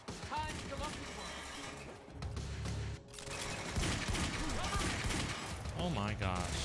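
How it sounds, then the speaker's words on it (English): Rapid machine gun fire in the shooter game Quantum Break, dense volleys of bursts with clattering impacts and crashes, loud and close, with a player's voice speaking over parts of the gunfire. "Machine gun time."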